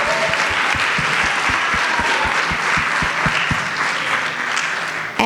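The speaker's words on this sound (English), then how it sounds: "Let's give them a round of applause." Loud, close audience applause for students at a school district board meeting, dense continuous clapping with a thumping rhythmic beat running underneath, tapering slightly at the end.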